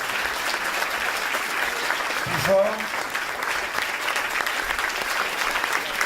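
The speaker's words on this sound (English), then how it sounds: "Merci beaucoup pour vos applaudissements" Steady audience applause fills a festival masterclass hall at Cannes, a dense even wash of clapping throughout, with a brief voice calling out over it midway.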